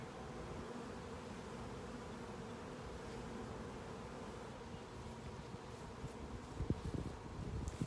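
Honey bees swarm inside an open hive during an inspection, with queen cells present. Their steady, dense hum fills the whole stretch at close range, with light rustling and a few soft knocks near the end.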